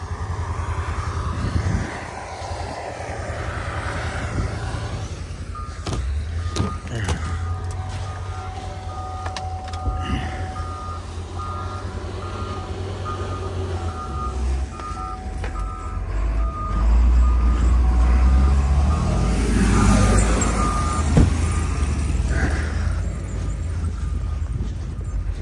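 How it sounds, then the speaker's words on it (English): A truck idles and runs in deep snow at a snowed-in Mammoth Lakes, California home, with loud, steady reversing beeps repeating over the engine rumble and louder engine surges midway and near the end. "Let's get Owen's truck fired up too."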